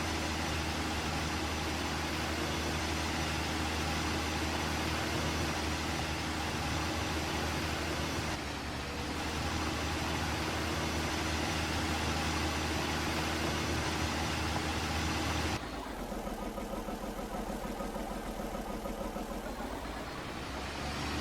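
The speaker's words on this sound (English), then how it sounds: "We're putting the old farm tractor to work" An old farm tractor engine runs steadily in a property-maintenance video game on Xbox One, a loud continuous mid-pitched drone that holds through most of the clip, then shifts to a rougher, noisier tone near the end.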